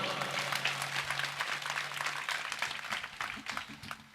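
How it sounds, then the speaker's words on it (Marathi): An audience at a Shiv Jayanti celebration program claps loudly, a dense, steady wash of applause that carries through the whole stretch without pause. "जोरात वाजवा."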